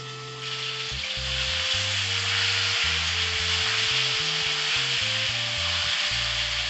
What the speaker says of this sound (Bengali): এর মধ্যে একটু লবণ, পরিমাণ মতো হলুদ দিয়ে নাড়াচাড়া করে ভাজতে দেব।